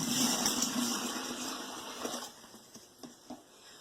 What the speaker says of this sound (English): all you simply do is just pour your lime water into your container